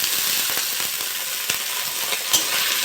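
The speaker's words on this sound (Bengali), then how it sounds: "আলুটা একটু ভেজে নেবো।" Potatoes frying in a pan with dried chilli and onion, a steady dense sizzle with a few soft clicks of stirring, close and continuous, no talking.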